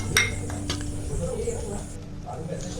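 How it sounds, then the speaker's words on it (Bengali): Curd being mixed into pakhala, a fermented rice dish, with clinks and scrapes of a spoon against the bowl amid faint background talk. "পান্তাতে দইটা দিয়ে আমি একটু ভালোভাবে মিশিয়ে নেব"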